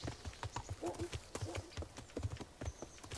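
Rhythmic clip-clop of a horse's hooves in the video game Kingdom Come: Deliverance plods steadily along at a walking pace, with a few soft snorting sounds mixed in.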